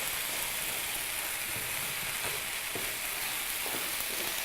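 Chopped peppers and mushrooms fry in a hot pan, giving a steady, close sizzle with occasional soft pops and stirring clicks.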